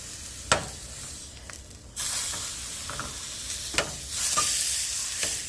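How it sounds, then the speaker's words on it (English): Pork lightly searing in a hot pan: a steady sizzling hiss that swells louder partway through, with a few sharp clinks and scrapes from a utensil, no voices. "I'm just going for a light sear"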